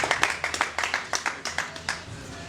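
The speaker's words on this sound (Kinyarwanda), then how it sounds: "umuha amashyi musabye amashyi" Audience clapping for a singer at a concert, a light patter of hand claps under a faint murmur of voices, rising and falling in short bursts.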